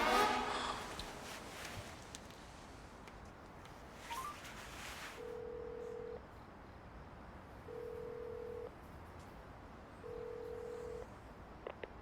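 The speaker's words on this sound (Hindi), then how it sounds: "कॉल लगाओ दीदी को।" A brief burst of dialing tones, then three evenly spaced ringback tones, each about a second long, heard over a quiet phone line.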